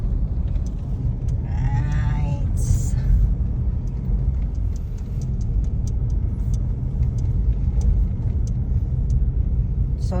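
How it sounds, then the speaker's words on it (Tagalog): Steady traffic rumble from cars and other vehicles crossing the San Juanico Bridge, a continuous broad wash of road noise heard from nearby, with a brief faint voice early on. "matraffic po siya kasi limited lang po yung mga pinapadaan nilang mga sasakyan"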